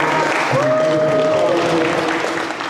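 An audience at a basketball coaching clinic in New York City gives a round of applause, a steady wash of clapping with a voice briefly audible over it before it begins to fade.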